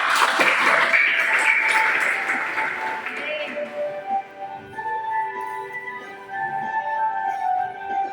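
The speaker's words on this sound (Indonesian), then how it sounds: "Oke, tepuk tangan dulu." Students in an Indonesian biology classroom burst into brief, busy applause for about three seconds, which then gives way to talk and sustained tones.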